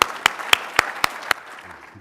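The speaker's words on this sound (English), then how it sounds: "You are Charleston Animal Society, and by God, you deserve a round of applause." At the Charleston Animal Society annual meeting, an audience claps in a slow rhythmic unison, about six loud evenly spaced claps, over a softer scattered patter that fades as a voice begins faintly.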